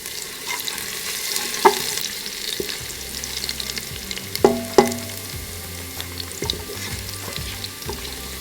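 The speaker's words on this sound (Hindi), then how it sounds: "अब इसे हल्का सा भून लें" Steady sizzling and frying in a hot pan as ginger, garlic and green chilies roast, with occasional clinks and scrapes of a spoon stirring, no voices.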